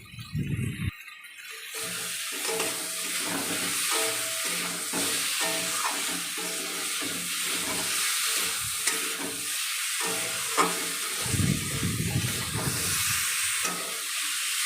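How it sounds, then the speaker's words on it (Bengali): Spices stirred and sautéed in a hot pan for a bhola fish curry with eggplant and potato, a steady close sizzle and hiss broken by scraping stirs. "মশলা দেওয়ার পরে একটু নাড়াচাড়া দিয়ে কষিয়ে নিয়েছি"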